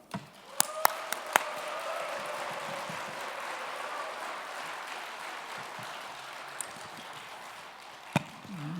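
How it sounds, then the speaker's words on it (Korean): A Korean church congregation at a Seoul lay spiritual retreat claps for a pastor, a sustained wash of applause filling the hall for several seconds, with a few sharp knocks near the start and end. "우리 장찬현 목사님 나오실 때 큰 박수로 환영하겠습니다."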